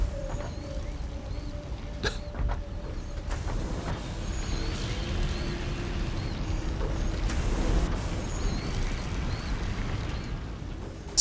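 Factory machinery in Satisfactory churning out nuts and bolts, a continuous mechanical clatter with creaks, ratcheting clicks and a low rumble holding steady throughout, with no voices.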